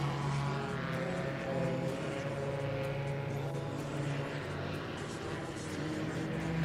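A paramotor engine drones steadily during an FAI World Paramotor Slalom Championships race, a continuous buzzing propeller hum heard at middle distance with no break.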